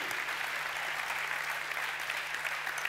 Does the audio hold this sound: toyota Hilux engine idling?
no